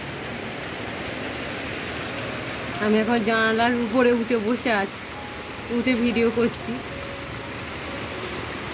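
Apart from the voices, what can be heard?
heavy rain falling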